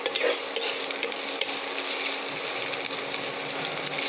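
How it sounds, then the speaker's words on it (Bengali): Vermicelli frying in a pan with a little salt, stirred continuously, giving a soft steady sizzle with light scraping and clinking of the spoon throughout, fairly quiet and close. "কয়েক মিনিট ভাজবো।"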